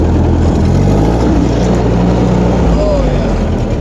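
A refurbished cheap tractor engine runs at a steady, smooth idle close by, a continuous low rumble that holds throughout at night.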